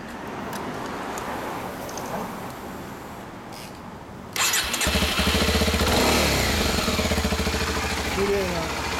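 A 2015 Kawasaki Ninja 250SL motorcycle heard nearby: quieter street ambience at first, then the engine fires up and runs loud with a rapid, even throb, blipping into revs toward the end, with faint voices around.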